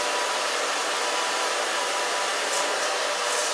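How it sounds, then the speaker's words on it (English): A hair dryer running on its low setting blows steadily while drying grey hair during a haircut, a continuous close broadband whoosh with no talk over it. "I'm going to dry it this way a little bit."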